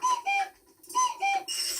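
A cuckoo clock in a Peppa Pig cartoon calls twice in a row, each call a clear two-note whistled "cu-ckoo" that falls in pitch, followed by a brighter sustained tone.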